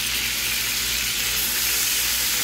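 Slices of food frying in hot oil give a steady, dense sizzle throughout, close and fairly loud, with no talking.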